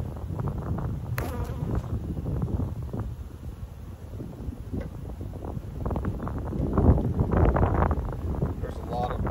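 Honey bees buzz around an open hive during an inspection, a close, fluctuating swarm drone with wind buffeting the microphone and a person talking over it.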